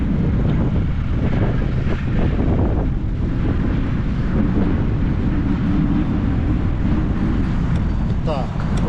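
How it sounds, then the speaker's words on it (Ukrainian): Strong wind buffets the microphone during a bike ride in Poltava, a constant loud low rumble filling the whole stretch with no pause. "І сюди ми з вітром їхали, і назад з вітром."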